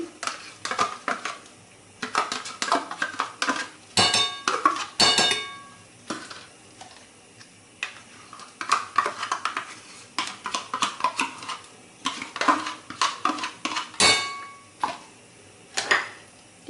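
Homogenized cheese is added to whipped cream in a bowl for a no-bake cheesecake, with repeated close clinks and scrapes of a utensil and containers against the bowl, irregular and fairly loud, with no voices.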